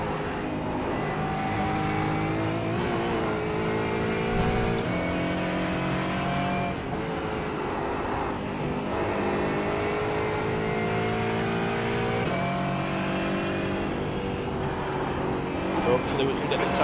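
Race car engine in iRacing during an IMSA Pilot Challenge endurance race at Lime Rock, a steady loud drone with shifting harmonic pitch as it revs through gears, continuous throughout with a voice talking over it.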